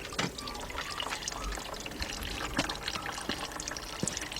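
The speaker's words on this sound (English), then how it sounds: "Cause we got a little antifreeze coming out that housing." Antifreeze trickling out of an engine housing into a drain pan on a 2003 Jeep Liberty Sport 3.7, a faint, steady liquid dribble with scattered drips and small clinks.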